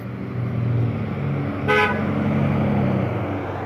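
A passing car or truck gives one clear horn toot midway through, set against steady traffic rumble on a roadway.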